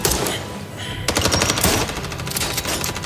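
Machine-gun fire in a translated thriller movie, with dense rapid bursts of gunshots over a loud, busy soundtrack, continuous through the stretch.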